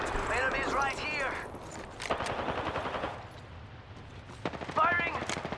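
Gunfire crackles in an Apex Legends match as rapid automatic bursts and scattered shots. Character voices talk over parts of the shooting, and a louder close burst comes near the end.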